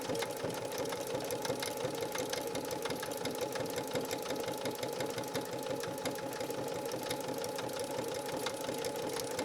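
Janome 3160 QDC sewing machine stitching through material, a loud, steady, fast needle chatter with an even motor whir that runs without pause throughout.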